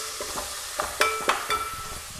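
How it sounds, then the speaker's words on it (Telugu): Ingredients for a multigrain millet curry, seasoned with salt, sizzle in a pan while a spoon scrapes and stirs them in a few distinct strokes, close and fairly loud with a light frying hiss underneath. "ఇప్పుడు ఇది మనకి బాగా వేగాలి, బ్రౌన్ కలర్ వచ్చే వరకు వేయించుకుందాం."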